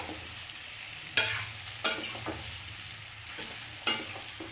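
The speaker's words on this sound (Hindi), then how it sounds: "अब इसको हम अच्छे से मिक्स कर लेते हैं बढ़िया से।" Pumpkin pieces are stirred in a frying pan over a steady close sizzle, with a few sharp scraping strokes of the spoon breaking through. No voices.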